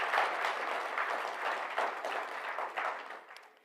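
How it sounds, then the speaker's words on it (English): Audience applause at a stakeholders conference in Namibia, a steady roll of many hands clapping in a large room that gradually tapers off near the end. "Now, I think we need a hand of applause."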